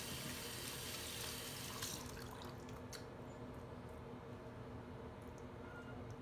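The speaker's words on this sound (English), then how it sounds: "So basically I'm gonna wet my hands first." Tap water runs steadily from a faucet into a sink while hands are wetted, a faint continuous splashing hiss with no voices.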